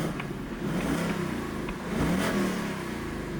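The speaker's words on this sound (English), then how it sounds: "And I'm gonna rev it." A 2024 Ford Mustang GT with the performance pack revs with its exhaust valves shut, giving a muted, mid-pitched rise and fall of engine note heard up close with no talking.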